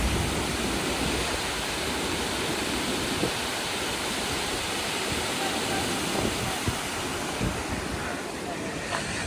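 Que Khola Falls waterfall and its flowing stream in East Sikkim produce a dense, constant roar of rushing water, loud and close, with no breaks.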